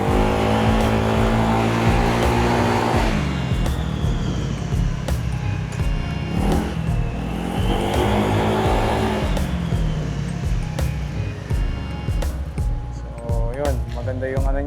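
A Honda Giorno scooter fitted with a TSMP CVT accelerates with a loud, rising engine whine that climbs and falls in repeated pulls, close by, while someone talks over it.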